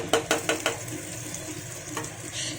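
Dried chili, bay leaf, nigella seeds, garlic and chopped onion go into hot mustard oil to temper a lentil dal. A quick run of four clattering hits opens a steady, close crackling sizzle that continues beneath.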